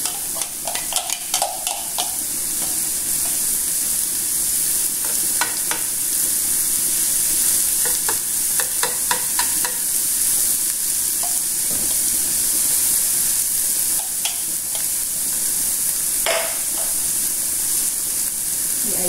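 Garlic frying in oil in a pan, a steady close sizzle and hiss running the whole time, with a few scattered clinks and stirring sounds and no talking.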